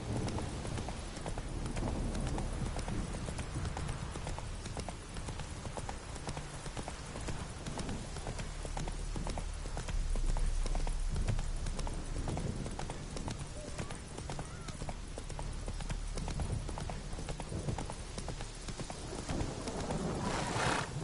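Horse hooves clip-clop in a steady, rhythmic trot in The Witcher 3 video game, heard throughout under a layer of game ambience.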